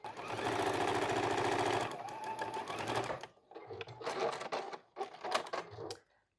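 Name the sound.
sewing machine stitching cloth napkin corners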